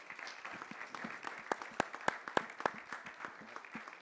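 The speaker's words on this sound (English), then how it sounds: "let's give them a round of applause" A modest audience claps after a university entrepreneurship talk, a scattered patter of hands with several sharper nearby claps standing out in the middle, fairly quiet overall.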